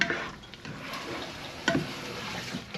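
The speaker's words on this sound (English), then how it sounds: "here's the hamburger mixture, and I'm just letting it simmer away a little bit" A hamburger mixture simmers in a pan, a soft, quiet bubbling and crackle with a few faint clinks, heard alone without talk.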